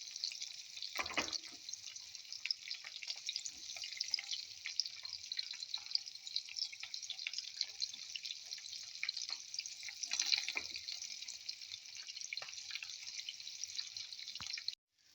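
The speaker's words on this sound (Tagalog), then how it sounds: "Ayan, iprito na natin. I put too much oil here" Egg omelette fries in too much hot oil in a pan, a steady close sizzle and crackle with a few brief spatters, continuing unbroken and without talk until it stops abruptly at the end.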